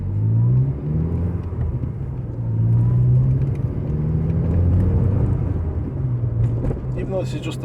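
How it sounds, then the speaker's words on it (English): Saab 900 Aero T16S four-cylinder engine droning from inside the car during a test drive, a steady low rumble that rises and eases with throttle, with a faint voice or two over it. "the exhaust note is quite sweet on it"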